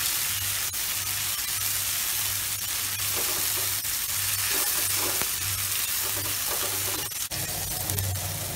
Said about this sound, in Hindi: इसको 1 मिनट तक टमाटर को पकाएंगे